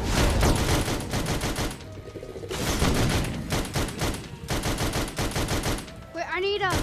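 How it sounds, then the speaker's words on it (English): Rapid bursts of video game gunfire from the Sam and Max game in VR, loud repeated volleys filling most of the stretch with brief pauses, ending in a rising synthetic sweep. "Just keep shooting."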